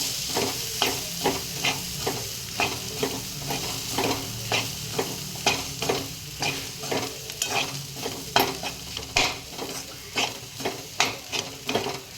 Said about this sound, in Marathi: छान असं परतल्यानंतर दाणे जे बारीक केले होते ते घालू परतून घेऊया